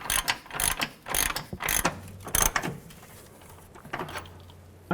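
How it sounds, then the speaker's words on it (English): A ratchet with a 21mm socket tightens a front upper control arm nut on a 2007-2014 Cadillac Escalade, giving quick bursts of close metallic clicking that fade to quieter intermittent ratcheting. "Using that 21mm socket and ratchet, go ahead and get this lined up and get that nut tightened up."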